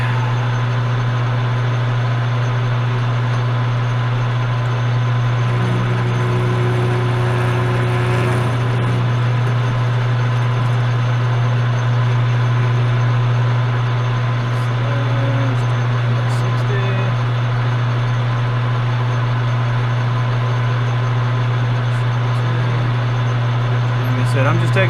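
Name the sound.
Logan metal lathe spinning, facing cut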